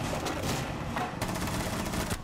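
Rapid automatic gunfire from Rainbow Six Siege rattles continuously in dense bursts, loud and close, with a couple of sharper shots standing out and no speech over it.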